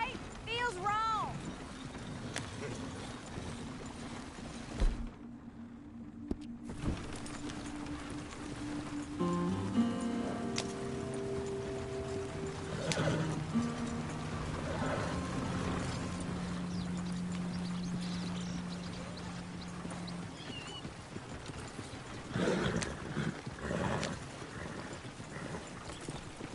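A horse being ridden in Red Dead Redemption 2, with hoofbeats clopping along under frequent talk and game ambience, and tonal calls that may include a whinny partway through.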